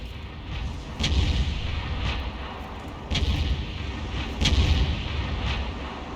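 Tank cannon fire in a video game battle: three heavy booming shots roughly a second or two apart, each with a broad rumbling tail over a constant background rumble, loud and fairly close, with no voices.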